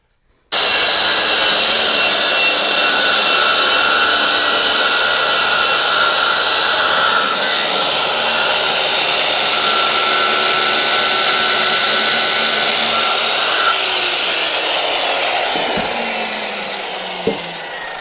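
A power saw makes a long cut through wood for a homemade coin pusher machine. It starts suddenly and holds a loud, steady high whine with rasping, sharp clicks near the end as the cut finishes and the sound fades slightly.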